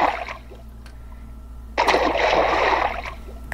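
Toy trolls splash into bath water with other bath toys: a short, bright burst of splashing and sloshing rises suddenly after a quiet stretch of faint dripping, then fades.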